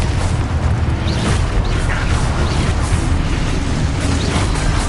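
Spell explosions in the video game Hogwarts Legacy make dense, continuous booms and bursts that layer over one another with no gaps.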